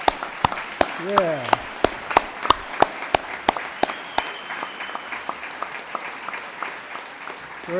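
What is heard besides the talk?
audience applause at a school awards ceremony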